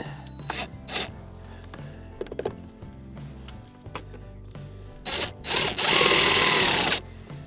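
A power drill pre-drills holes in a rain gutter during an outdoor installation in wet, wintry weather, with several short whirring bursts and one longer, louder drilling run near the end.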